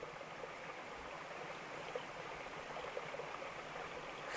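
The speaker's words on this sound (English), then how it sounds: "Flowing water." A flowing creek in Casablanca Canyon, Arizona gives off a steady, soft rushing wash of water. It sounds distant and faint, an even stream with no talking.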